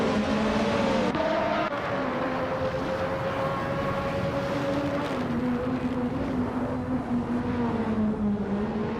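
A 1988 Dallara 3087 race car in a racing video game drones steadily as its engine holds a sustained tone, with pitch gliding gently lower and higher while the car keeps a steady pace.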